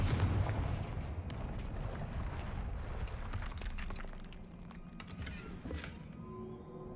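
Confringo spell blasting open a barrier in the Hogwarts Legacy video game, a burst of booming explosive impacts followed by crackling debris and scattered sharp hits, fading into lighter rattles.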